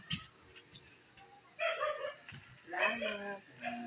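A dog yips and whimpers in short bursts close by, mixed with people talking around it.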